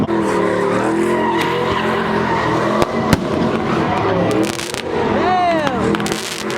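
A truck doing donuts at a packed car meet, its tires skidding and squealing in long continuous bursts amid engine roar and crowd noise, with loud pops and voices around it.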